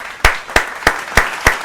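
Five sharp, evenly spaced claps ring out close by, a single person slowly clapping in a steady rhythm with no voices.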